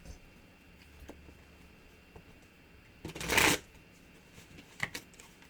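A Game of Thrones tarot deck is shuffled up close, with one loud riffling burst in the middle and a shorter flutter of cards near the end against a quiet room.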